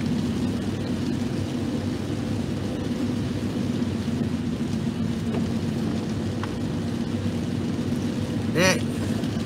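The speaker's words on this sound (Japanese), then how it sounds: "また雨足が強くなってまいりますけど" Heavy rain pours steadily in a valley beside a river, a dense, even hiss of falling water with a low rumble beneath it and one brief higher sound near the end.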